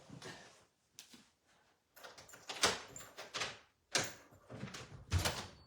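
Indoors at home, a door opens and closes with a series of sharp knocks, clunks and latch clicks separated by brief quiet gaps, fairly faint overall.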